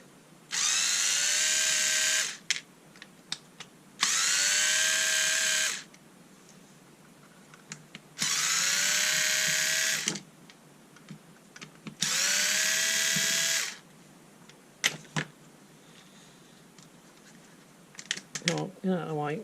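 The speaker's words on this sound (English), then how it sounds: "So I'll unscrew that first." A cordless screwdriver whirs in four steady bursts of roughly two seconds each while backing T10 Torx screws out of a Dremel 10.8 cordless rotary tool, with small clicks and handling noises between the runs.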